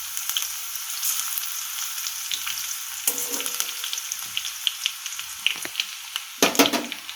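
Garlic sizzles in a hot pan of oil with a dried red chili and crushed ginger, a steady crackling fry with sharper bursts of spitting near the middle and end, no voices.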